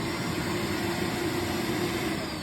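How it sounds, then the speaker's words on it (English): A vacuum cleaner runs steadily and close by with a continuous whirring motor drone and airy hiss, no talk over it. "there are 3 settings to the vacuum, which makes it really nice to use for everything."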